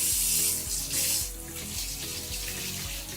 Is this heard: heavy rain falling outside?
no